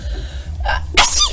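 A single sharp sneeze bursts out loudly and close after a brief indrawn breath, standing alone against a quiet room background.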